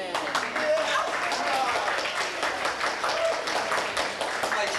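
Wedding guests clapping and applauding, a dense sustained patter of many hands close by, with voices talking through it.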